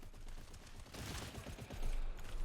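Rapid automatic gunfire from a first-person co-op shooter game, a dense continuous burst of shots at a bridge bottleneck, loud and close with a short surge near the end.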